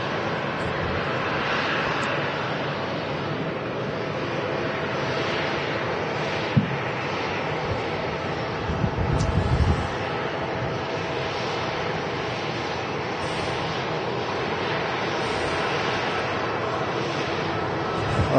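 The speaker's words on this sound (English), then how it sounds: "we've got the EasyJet to Geneva now starting its taxi again" An EasyJet airliner taxiing at Manchester Airport gives a steady, broad jet-engine roar at moderate distance, holding constant with a brief thump midway and no talk.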